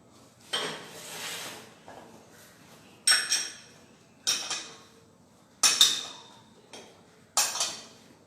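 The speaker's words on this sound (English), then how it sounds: "Now I am going to whisk or beat this chocolate ganache." A whisk clatters against a bowl of chocolate ganache in sharp, separate bursts of metallic tapping, about six strokes with short pauses between, close and clear with no voices.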